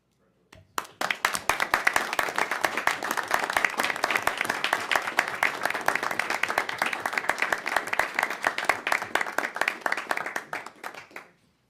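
Audience applause at a city council meeting, a dense steady patter of many hands that starts abruptly, holds evenly for about ten seconds, then tapers off to silence.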